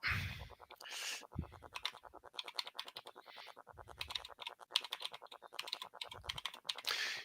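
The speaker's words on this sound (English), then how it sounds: "You may be able to hear the clicking." Rapid clicking from a mechanical computer keyboard while a document is typed, a dense, steady run of sharp keystrokes with short pauses and occasional louder thumps, heard fairly faintly from a room microphone with no talking.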